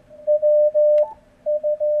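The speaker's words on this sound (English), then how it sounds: "it's very tight filter that boosts the frequency of the side tone." A Yaesu FT-891 transceiver's sidetone passes through a tight audio peak filter, a pure steady beep sounding in short keyed bursts with a brief pause, clean and close with no voices.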